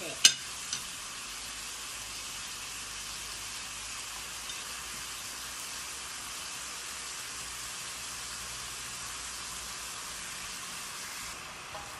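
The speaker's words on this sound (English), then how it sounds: "I'm gonna keep on stirring it and flipping it until the meat is brown." Marinated meat sizzling steadily in a hot pan, a dense continuous hiss like rain that holds evenly for the whole stretch, with a couple of faint knocks near the start and no talk.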